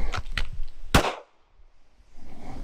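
A single sharp pistol shot cracks loud and close during a timed shooting drill. Light handling noise comes before it, and a brief quiet gap follows.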